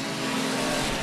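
Eco Stock race car on a paved oval at Houston Motorsports Park during a championship night race, its engine screaming at high revs in a loud, steady, buzzy roar as it dives into turn one.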